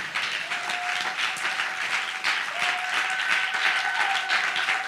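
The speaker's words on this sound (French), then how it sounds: "Est-ce que vous pouvez vous tenir debout et vous applaudissez pour vous-même?" Steady applause from a group of children fills the space, continuous clapping at moderate loudness without pause.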